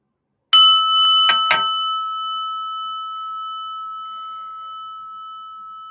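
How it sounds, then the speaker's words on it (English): A meditation bell is struck a few times in quick succession, then one clear ringing tone sustains and slowly fades over several seconds, bright and close. "And the bell."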